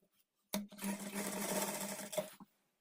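Sewing machine running steadily for about two seconds as the lining is stitched onto a lehenga, a close, continuous mechanical whir that starts abruptly and stops with a brief burst at the end.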